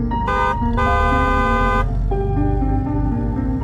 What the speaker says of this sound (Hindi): ड्राइवर बार बार हॉर्न मार रहा होता है